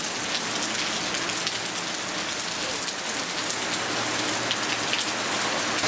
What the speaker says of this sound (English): kind of in the rain.